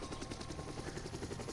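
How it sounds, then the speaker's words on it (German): Little Bird helicopter in the video game DayZ, a steady rotor thrum with rhythmic blade chop, heard faintly and continuously on its own. "sonst ich flieg den Hubschrauber schon mal zum Spawn"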